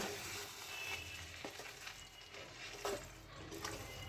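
Boiled cabbage and potatoes stirred together in a pan, a soft continuous sizzle with scraping and occasional clinks of the spoon against the pan, steady and close.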